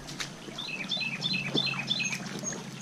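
Small birds chirp in a quick, repeated series of short high calls by a creek, fairly close, over a steady low rush of flowing water.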